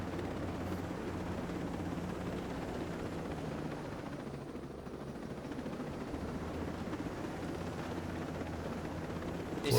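A helicopter in the video game Ghost Recon Breakpoint drones steadily with a continuous rotor and engine rumble, close and even throughout, with no voices over it.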